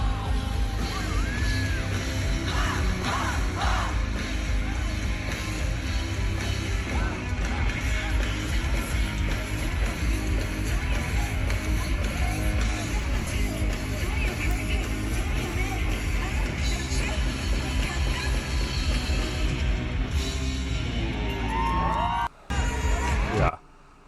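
A huge festival crowd at a concert yells, whoops and cheers loudly and continuously, a dense roar of many voices with music underneath, ending abruptly.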